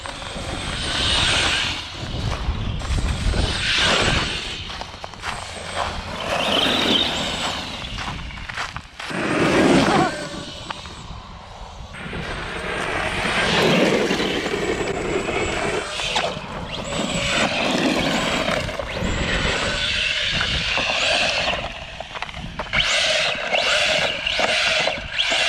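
An Arrma Granite 4x4 brushless VXL 3S RC truck running outdoors, its electric motor whining and surging as the truck speeds up and slows, with gravelly rumble and scrabbling from the tires throughout.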